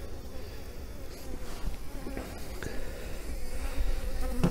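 Honey bees buzz thickly around an opened hive, a dense close swarm drone with individual bees flitting near, growing slightly louder toward the end.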